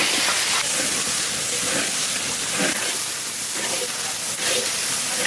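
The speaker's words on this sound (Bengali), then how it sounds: "টকবক করে ফুটছে" Curry made with ground cumin, coriander and dried red chilli paste boils in a pan, a steady close hiss of bubbling and steam that swells slightly now and then.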